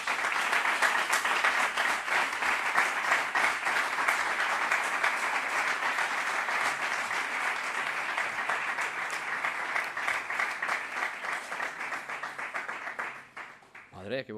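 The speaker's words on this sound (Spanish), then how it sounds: "Madre, qué buen aplauso, gracias." Sustained audience applause after a talk on Hispanidad and Extremadura, dense and even clapping from a large crowd lasting over ten seconds before thinning out, with a voice beginning to speak as it dies down.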